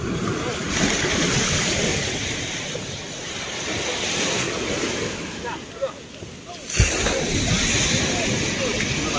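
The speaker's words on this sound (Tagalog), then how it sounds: "Ang laki ba naman ng alon?" Large sea waves surge and crash in steady broadband wash alongside a fishing boat, with wind buffeting the microphone and a few brief knocks near the end.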